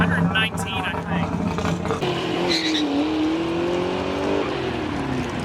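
A Ford Mustang drag car engine revs and accelerates loudly nearby, its pitch rising in a steady climb under a voice speaking over it.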